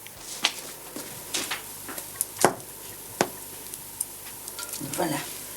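Chicken pieces frying in copper pans: a steady broad sizzle with scattered crackles and pops, close and moderately loud, with no speech over it.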